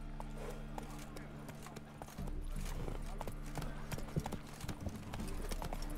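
Horse galloping in The Witcher 3, rapid clip-clop hoofbeats pounding steadily over a low ambient hum, with a voice calling out briefly.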